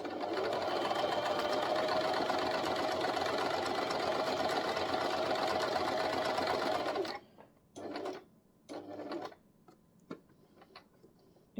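A sewing machine stitches a straight line on paper in a steady, fast mechanical whir for about seven seconds, then stops, followed by a few short bursts of reverse stitches.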